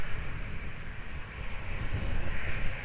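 Jet airliner rolling for takeoff on runway 02 at Lisbon Airport, a steady broad engine roar with heavy low rumble and wind buffeting, sustained and fairly close, no talk.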